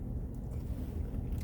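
A car engine idles while parked, a steady low rumble with faint hum that stays constant and close throughout, with no talking.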